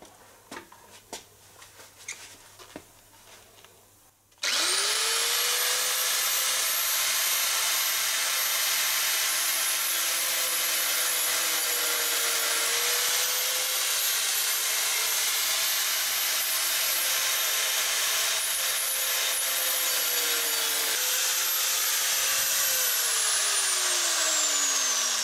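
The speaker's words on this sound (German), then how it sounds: "ich schneide jetzt hier mit einer Millimeterscheibe" A thin 1 mm cut-off disc on an angle grinder slices through the sheet-metal floor pan of an APE 50. A few quiet clunks come first, then a loud continuous high whine that keeps going and shifts pitch slightly as the cut goes on.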